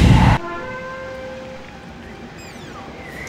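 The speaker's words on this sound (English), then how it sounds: "Train." A short loud burst of train noise in the Wizard101 video game cuts off abruptly, leaving sustained tonal ringing and a quiet rumbling tail, with faint whistling chirps later on.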